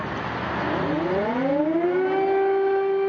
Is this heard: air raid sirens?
yes